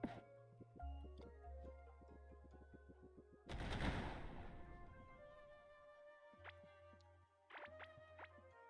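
Explosives going off in the video game Core Keeper, with a sudden loud blast and rumbling decay midway, then a second sharper burst near the end, amid steady game music and effects.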